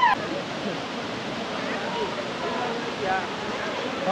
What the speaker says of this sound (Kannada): ಹಳ್ಳಿ ಮನೆ ಫಾಲ್ಸ್ ಆಯ್ತು, ಈಗ ಸುರ್ಮನೆ ಫಾಲ್ಸ್ ಎಂಟ್ರಿ.